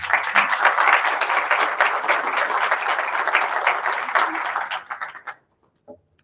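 A seated audience at an academic lecture in Chile gives warm, sustained applause for the incoming speaker, dense steady clapping for about five seconds that quickly thins out to a few final claps.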